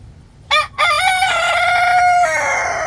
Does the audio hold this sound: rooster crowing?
yes